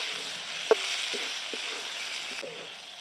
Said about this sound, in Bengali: পটলের সঙ্গে মশলাগুলো ভালো করে কষিয়ে নিচ্ছি।